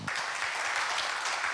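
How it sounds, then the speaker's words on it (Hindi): Congregation applause at a Sunday Hindi church service, welcoming a couple as they stand. Dense, steady clapping fills the whole stretch at an even level, with no talk over it. "किने ताली बजा के उनको वेलकम कर दें."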